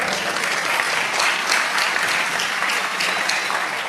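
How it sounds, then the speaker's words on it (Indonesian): Audience applause at an Indonesian religious talk show, dense and steady clapping filling the whole stretch at close range, with no speech over it. "Tepuk tangan."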